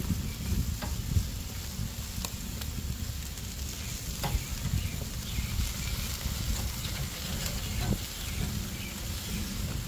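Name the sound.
chicken sizzling on a Kamado Joe grill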